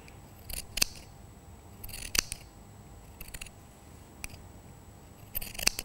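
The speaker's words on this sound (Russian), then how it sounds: "сейчас я лишнюю ткань по нижнему залому срежу и опять буду использовать ножницы зигзаг." Zigzag pinking scissors trimming excess fabric along a fold while making a handmade pincushion: several sharp, crisp snips spaced a second or so apart, close and clear against a quiet room.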